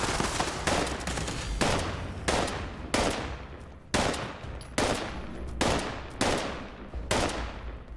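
Gunfire in Fallout 76, a steady series of loud, sharp shots roughly every half to one second, each with a short decaying tail, repeating throughout without talk.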